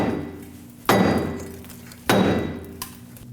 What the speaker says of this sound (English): first I'm going to try a dead blow rubber mallet and tap right here